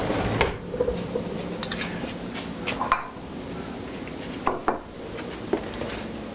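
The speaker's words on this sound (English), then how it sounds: "let's get a knife and a fork" Small knife and fork clinking and scraping against a plate of turkey wings, a few light clicks and taps spread irregularly over a quiet room background, no voices.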